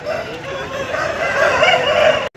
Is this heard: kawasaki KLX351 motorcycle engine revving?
no